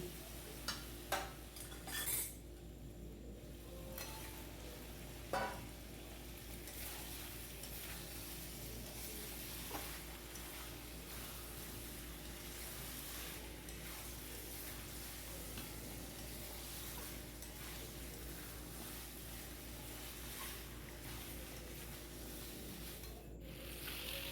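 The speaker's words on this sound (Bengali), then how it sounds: "এবার এর মধ্যে না আলুগুলো দিয়ে আবার আরেকটু কষিয়ে নেবো আমি" Meat and potatoes stir-fried (kosha) in oil in a pan, giving a faint, steady sizzle with a few utensil clicks and scrapes near the start and middle.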